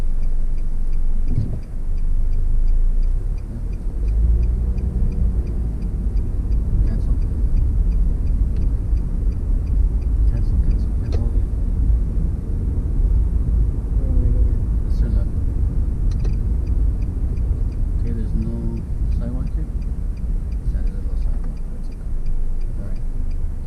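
Steady low rumble of a car driving, with constant road and engine noise filling the cabin throughout while people talk over it.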